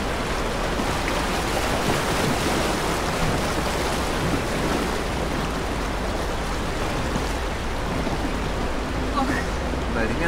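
Broadband roar of churning whitewater on a Bulgarian river during a rafting trip, steady and loud throughout with faint voices beneath the rush.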